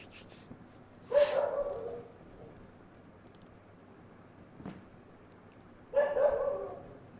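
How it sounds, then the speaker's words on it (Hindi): Dogs bark outdoors in separate loud bursts: one sustained bark, a brief yelp a few seconds later, then another strong bark. They sound moderately near against a quiet indoor background. "ये थोड़ा ज़्यादा परेशान करते हैं यार ये कुत्ते।"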